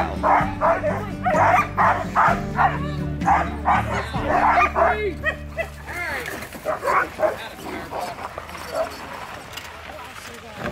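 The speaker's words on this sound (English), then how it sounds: "As soon as someone got into the cart, the dogs were up with enthusiasm and ready to go." Alaskan sled dogs bark and yip excitedly before a cart ride, a close, rapid burst of overlapping barks that gives way to whimpers and scattered yelps while people talk nearby.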